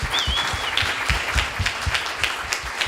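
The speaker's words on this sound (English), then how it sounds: "So round of applause for Raleigh and Drake" Steady audience applause for best product winners at an events industry pitch session at AMC Edinburgh, dense and even throughout, with a brief high whistle near the start.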